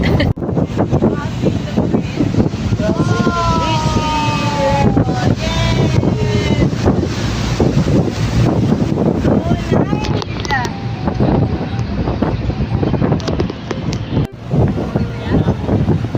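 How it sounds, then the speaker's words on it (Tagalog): Strong wind buffets the microphone in a constant roar while a river boat engine hums underneath in Bangkok; voices speak intermittently over the gusts. "Ang hangin guys."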